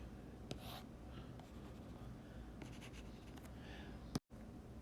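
Pen or marker strokes sketching a graph by hand on a board, a faint scratchy scribbling in short bursts over a steady background hiss, with one sharp knock near the end.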